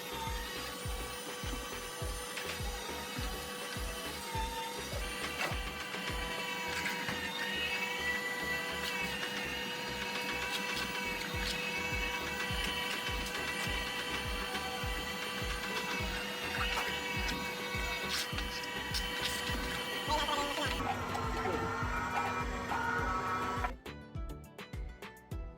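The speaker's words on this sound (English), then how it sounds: "we gonna mince the beef and all the veggies in the mincer machine" A meat mincer machine grinds beef with capsicum and carrots, giving a loud continuous motorized drone with a rhythmic churning pulse that shifts pitch near the end before stopping.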